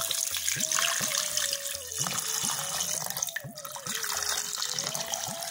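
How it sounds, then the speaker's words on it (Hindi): Water runs steadily from a tap into a cooking pot, about two liters for a meat stew, a continuous splashing pour with some clinks, close by and fairly loud. "अब इसमें जाएगा तकरीबन 2 लीटर पानी।"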